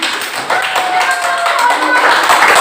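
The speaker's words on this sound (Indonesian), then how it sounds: "Tepuk tangan untuk kelompok" Students in a classroom applaud a group with quick, continuous hand clapping that stays steady throughout, a few voices mixed in.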